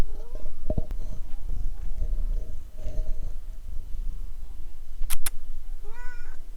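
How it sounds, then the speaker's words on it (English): Close, muffled rubbing and bumping against a microphone, with a few soft meows and chirps from a cat near the end. "she just wants to rub her face on the microphone"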